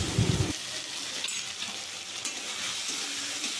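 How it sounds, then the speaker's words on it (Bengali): Spice paste with chopped tomato frying in oil, a constant close sizzle with soft stirring scrapes and a brief low thump at the start, no talking. "তারপর মশলাটা ভালো করে কষিয়ে নেবে যতক্ষণ না তেল ছাড়ে।"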